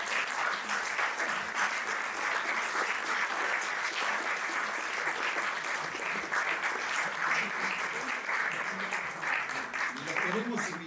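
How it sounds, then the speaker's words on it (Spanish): Audience applause fills a university lecture hall after a talk, steady dense clapping sustained throughout with a faint voice emerging near the end. "un gran aplauso"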